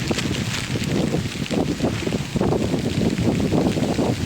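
Strong wind blows steadily outdoors while fresh coconut fronds are being cut, a loud continuous rushing roar buffeting the microphone with gusty swells throughout.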